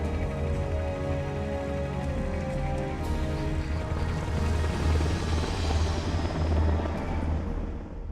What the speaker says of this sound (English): you must be crazy to fly a hind in this kind of weather